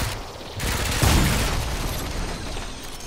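Gunfire in the video game Remnant 2: a sharp close blast followed by a rolling burst of rapid shots and booming reverberation that decays into a rumbling tail.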